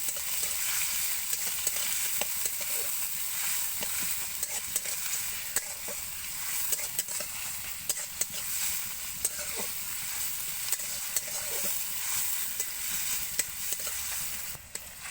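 Chopped onions fry lightly in hot oil for a shrimp dish cooked in gourd leaves, giving a steady close sizzle throughout, with occasional spoon stirs and scrapes against the pan.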